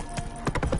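Horse hooves clip-clopping in a quick, short burst of several hoofbeats during riding in The Witcher video game, close and fairly clear.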